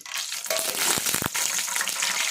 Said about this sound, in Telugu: ఇప్పుడు మనం అదే ఆయిల్లో ఇది చిన్న స్పూన్తో స్పూండు మెంతులు వేసుకోవాలి